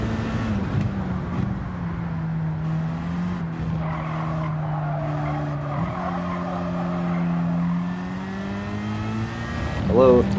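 Race car engine held at full throttle in Gran Turismo 7, a steady droning tone with shifting pitch and occasional tire squeal, loud and continuous beneath game sounds and someone talking.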